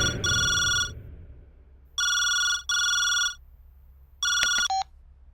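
A telephone rings in three distinct bursts of electronic trilling, the last one cut short, with quiet pauses between them in an otherwise still room before a call to the chief minister.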